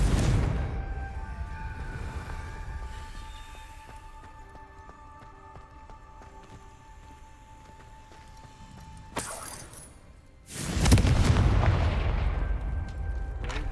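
Confringo fire-blast spell in Hogwarts Legacy, quiet game ambience with tonal hums, then a sharp burst and, moments later, a loud booming explosion whose rumble lingers.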